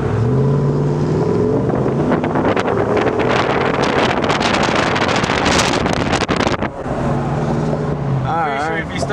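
A car's freshly modified exhaust after muffler shop work rumbles and roars as the vehicle accelerates, loud and buffeted by wind noise, with voices talking over the start and end.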